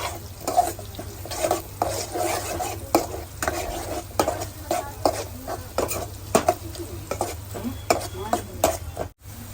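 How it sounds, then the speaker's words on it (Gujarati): Onions fry in a pan with ginger, garlic and chilies, sizzling steadily at close range while a spoon stirs and scrapes in repeated rhythmic strokes. "આપણી ડુંગળી સતળાઈ ગઈ છે."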